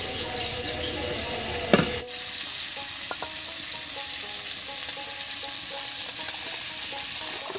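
Dal lentils frying dry in a pan, a soft continuous sizzle and rustle with light stirring, close and steady, with a brief clatter near the start.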